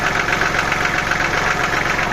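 The three-cylinder engine of a Kubota GL29 mini tractor with a front loader idles loudly and close by, a steady even chug with a fast knocking pulse and no talking.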